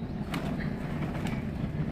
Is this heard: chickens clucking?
no